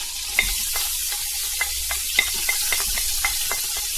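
Onion fries in a pan for a sweet-and-savory Algerian tajine with prunes, a loud, steady hiss of oil broken by light, irregular crackles and pops, close up, with no one talking.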